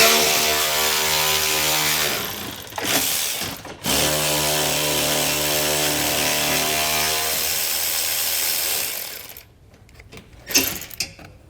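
A power socket tool spins out a 10mm bolt on a 2018 Ford Edge while a base plate is fitted, a loud steady whirring run broken by short pauses and ending in a few brief bursts.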